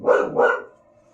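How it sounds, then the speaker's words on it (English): Dogs give two loud, close barks in quick succession, and the sound then fades into near silence with a faint lingering tone. "Stupid dogs again."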